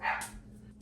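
A single short dog bark, fairly quiet and close, with nothing else following.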